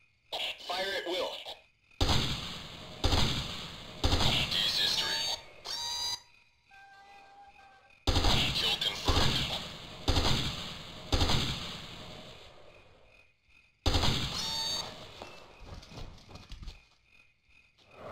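Rapid gunfire rings out in the jungle shooter Ghost Recon: Jungle Storm, coming in three sharp, loud bursts separated by brief pauses, with game voices and radio chatter heard between the volleys.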